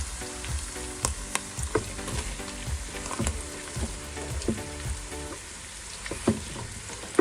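Sliced white onions, four medium ones, sizzle and crackle steadily in hot oil with green chillies for mutton biryani, a close, continuous frying hiss punctuated by soft stirring knocks.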